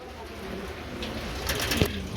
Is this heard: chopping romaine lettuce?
no